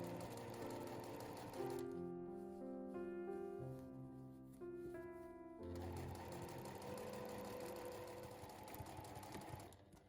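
A sewing machine stitches fabric for a drawstring pouch, sewing an extra 5 mm seam. The motor runs in a steady, close, loud whir that pauses briefly partway through and then resumes, with no talking.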